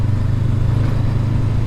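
A stock 2019 Honda CB500X motorcycle ridden off road on loose gravel in Oregon, tyres running at 20 psi: a loud, continuous low engine drone with a steady rumble, heard close up with no speech.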